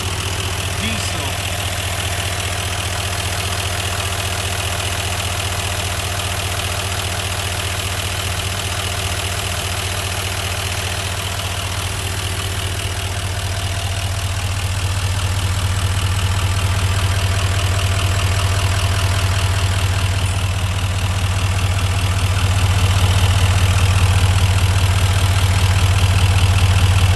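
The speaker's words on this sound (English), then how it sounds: "You can hear the beautiful sound of diesel." A 2018 Chevrolet Silverado 3500HD High Country with a Duramax 6.6 diesel and Allison transmission idles nearby, a steady low rumble with a light diesel clatter that grows slightly louder toward the end.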